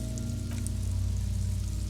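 Light drizzle falling outside in Disco Elysium, a steady soft patter of rain over a low ambient drone.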